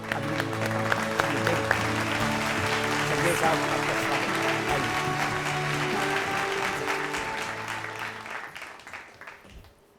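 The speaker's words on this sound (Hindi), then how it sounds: "जोरदार तालियों के साथ" Loud audience applause welcomes guest Devesh Sachdev onto a talk show stage, a steady roar of clapping with a host's voice greeting him over it, tapering off near the end.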